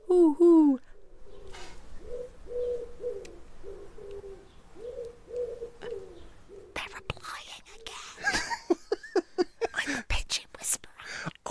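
A human voice imitates a wood pigeon's cooing: a series of soft, repeated hooting coos in a steady rhythm, fairly close and moderately loud, followed by a burst of clattering and other noise.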